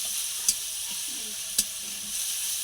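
Onion, garlic and tomato fry in a pan for a fish-head muri ghonto. A steady sizzle and hiss is broken by two sharp spoon scrapes against the pan, close up and without speech.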